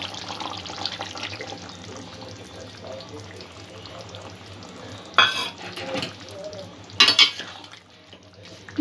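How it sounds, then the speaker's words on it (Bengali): Vegetable korma with coconut milk is stirred in a pot, a steady close bubbling and scraping broken by two louder clattering bursts near the end. "এখানে যে নারকেলের দুধ তৈরি করেছিলাম, সেই নারকেলের দুধটা দিয়ে দেবো।"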